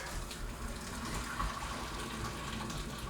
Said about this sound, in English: spoon and drain the tomatillos into the sink